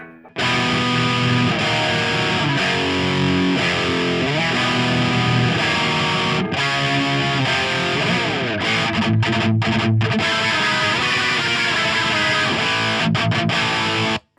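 Heavily distorted electric guitar through a Marshall amp plays loud, saturated black metal chords and riffs with a thick amp tone, continuous with brief gaps near the end.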